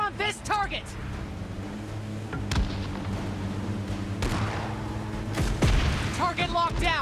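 Artillery strike explosions in PUBG Mobile, a few heavy booms spread over several seconds amid engine-like rumble, with voices talking at the start and end.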